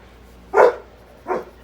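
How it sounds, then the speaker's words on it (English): A dog gives two sharp barks about three-quarters of a second apart, fairly close and moderately loud against a quiet room. "My dogs are hearing your dogs and have come over to investigate"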